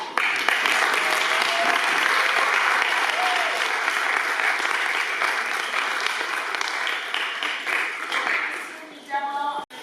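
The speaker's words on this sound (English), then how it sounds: "So clap for that." A crowd at a community unity and justice march rally in Asheville applauds in a loud, sustained wash of clapping that carries on nearly the whole time, with voices mixed in and a few cheers near the end.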